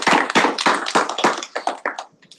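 A small round of applause at a student senate meeting, a few hands clapping in an uneven rhythm that thins out and fades over about two seconds.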